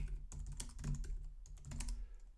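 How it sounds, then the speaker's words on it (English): Fast typing on a computer keyboard, a rapid irregular run of crisp close key clicks in quick bursts, quiet overall with no talking. "Typing too fast."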